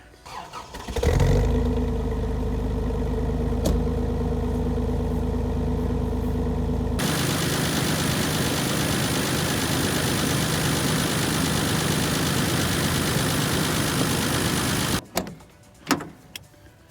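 A 1988 Toyota FJ62 Land Cruiser engine with a crushed front end cranks and catches, then idles steadily; partway through a louder broadband whoosh joins it until the engine cuts off near the end.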